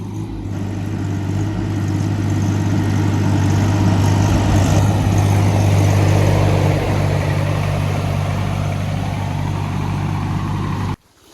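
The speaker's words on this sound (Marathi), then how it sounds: "सो आता इकडे ट्रॅक्टर फसायला लागलं थोडं" A tractor engine drones low and steady at close range as the tractor starts to bog down in a soft, rain-soaked field. The loud rumble holds throughout, then cuts off abruptly at the end, with no talking.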